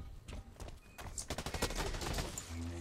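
A deployed gun turret fires in the online shooter Blacklight: Retribution, a rapid rattling burst of automatic shots with uneven pulses, fairly faint under the game mix.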